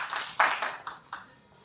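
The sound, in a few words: applause for the volunteers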